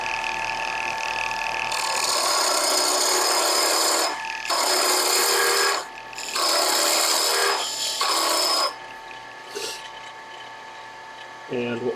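A woodturning tool cuts a wooden bottle stopper spinning on a lathe, giving loud, steady hissing scrapes in several long passes separated by brief pauses, with a quieter tail at the end.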